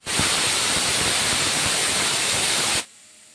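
A loud, steady hiss of steam jets out for nearly three seconds, then cuts off abruptly, like a pressure cooker whistle venting.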